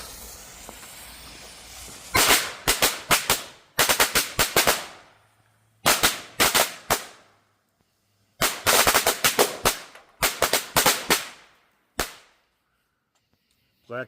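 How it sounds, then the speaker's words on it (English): A pack of 50 Black Cat firecrackers goes off in rapid crackling bursts, loud sharp pops in several clustered volleys separated by short pauses, with a fuse hiss before the first burst. "Here we go with a pack of 50 Black Cat firecrackers"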